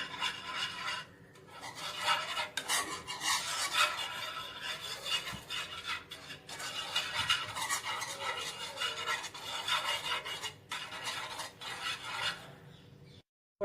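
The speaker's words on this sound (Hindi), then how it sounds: "तो चलाते रहना है, आपको चलाते रहना है।" A spoon rasps and scrapes against a pan while thick, creamy cheese pasta sauce is stirred, continuous rubbing strokes in an uneven rhythm with brief pauses, close and fairly loud.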